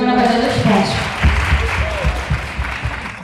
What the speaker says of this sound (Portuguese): Dá para aplaudir ela?